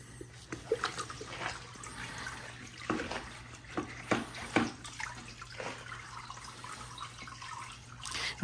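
An Autofiber wash mitt on a stick is dunked back into a water bucket while washing a car roof, making a few close sloshes and splashes over quiet dripping.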